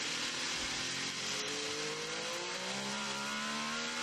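Onboard engine of the #10 Acura prototype race car at the 2024 Rolex 24 Hours of Daytona, a loud, continuous high-revving roar with rising tones as it climbs through the gears, set against heavy wind rush.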